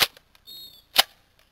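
A Nerf Barrel Break IX-2 blaster fires a dart with a sharp, close pop, followed by a short whirring hiss, then a second sharp snap a moment later, with no talking.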